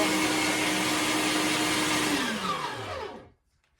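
An electric meat grinder whirs steadily while grinding deer meat for sausage, a loud continuous motor drone that winds down in pitch near the end before stopping into silence.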